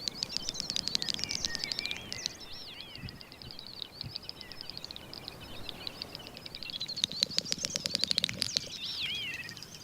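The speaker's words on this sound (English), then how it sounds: "It's the courtship song of the great snipe." Great snipe giving its courtship song at dusk on open moorland in northern Europe: two bursts of rapid, bubbling twittering and clicking trills, the first near the start and the second near the end, over faint background hiss, with no talking.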